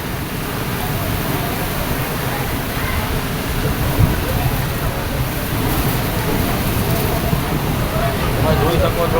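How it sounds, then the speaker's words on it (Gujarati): Heavy downpour pouring down in Dubai, a dense, steady wash of rain noise that holds at constant strength throughout, close and loud with no clear voices above it. "તો બહાર નીકળતાની સાથે ધોધમાર વરસાદ તૂટી પડ્યો છે."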